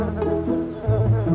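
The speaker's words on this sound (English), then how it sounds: "bees make honey. I've seen a few flying around here today" Bees buzzing in a steady, close drone, loud and continuous with a slight shift in pitch partway through, no voices over it.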